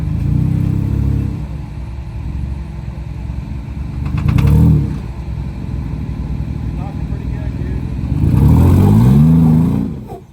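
Off-road vehicle engine on a hardcore trail, steady low rumble throughout with two louder revving surges, one brief and one longer near the end, loud and close with voices talking over it.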